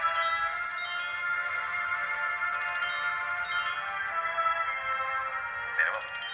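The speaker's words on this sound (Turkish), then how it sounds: "Telefonu biraz daha açmasan hemen kızabilir." A phone rings with a steady electronic tone that repeats without a break, bright and fairly close, while a voice speaks faintly underneath.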